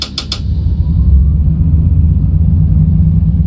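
A British Rail Class 153 train engine in a train simulator game, powered to notch 3, drones in a steady low rumble, opening with a few quick high clicks before settling into a constant mechanical hum.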